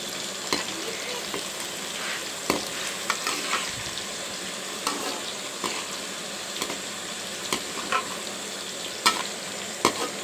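Pieces browning in hot oil in a pan for a keema and bitter gourd (karela) dish, giving a steady close sizzle with scattered sharp clicks and taps from stirring.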